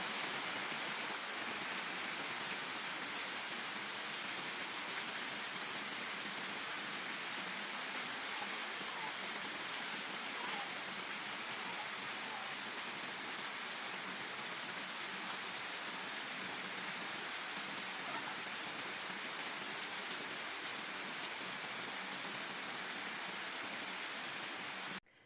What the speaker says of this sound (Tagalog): kaya sobra ang ulan na nararanasan namin dito